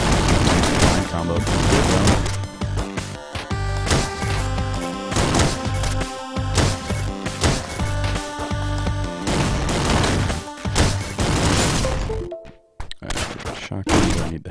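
Shotgun blasts in the game Downwell amid dense, busy game sound, repeated punchy booms and thuds over a constant clattering background, ending in a brief quieter gap.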